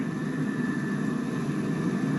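A British Airways Boeing 777-300ER taking off from runway 09 right at London Heathrow: a steady, roaring jet rumble with a broad hiss, continuous and fairly loud throughout.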